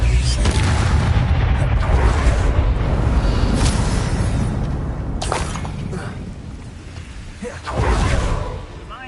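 Spells blast in the Hogwarts Legacy video game, a dense wash of booming impacts and whooshes with sharp bursts near the start, middle and end.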